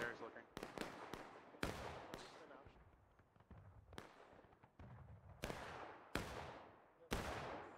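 Cannon artillery in the War of Rights game on the Pry Ford map, booming in about nine sharp, loud blasts at irregular intervals, each trailing off in a rumbling decay.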